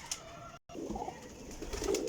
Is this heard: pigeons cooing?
yes